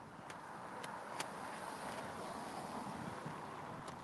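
Steady heavy wind buffets the microphone at an outdoor morning protest, a constant roaring rush with a few brief clicks, no voices.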